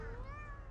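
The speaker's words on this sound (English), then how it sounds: "Oh, look at the cats!" Cats meow in a video game as a player climbs stairs, with a few short, tonal cries rising and falling against steady background hum. They are moderately clear, with no talk over them.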